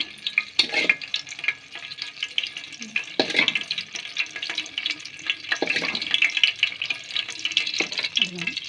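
Oil for a fenugreek leaf chutney fries hot and smoking in a pan, giving an irregular crackling sizzle with clattering scrapes and knocks from stirring.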